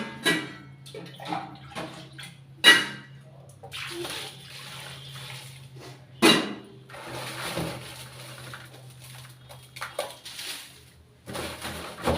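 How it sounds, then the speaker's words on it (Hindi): Chili peppers are rinsed in a basin of clean water, with intermittent splashes, sloshes and drips coming in short bursts, close and fairly quiet. "अब एक पानी इसको और धुलना है, एक साफ पानी से।"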